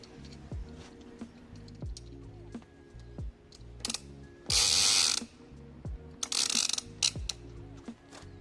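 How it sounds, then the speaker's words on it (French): Ratcheting clicks and mechanical clacks come from tie-down hooks and straps being fastened at the front of a lightweight rooftop tent. Short ticks recur at a steady pace, with two louder bursts of rasping strap noise, all close by and without talk. "On prend nos crochets d'arrimage. On fixe un crochet ici."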